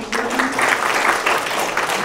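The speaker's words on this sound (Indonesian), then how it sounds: "Tepuk tangan buat" Applause from an audience at Jakarta Innovation Days 2022, a steady wash of clapping lasting about two seconds with no other voices on top.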